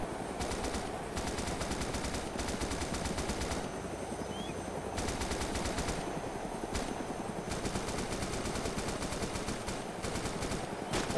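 Sustained automatic gunfire fills an ARMA 2 DayZ video game battle, with dense rapid bursts rattling almost without pause over a steady loud background of combat noise; no voices.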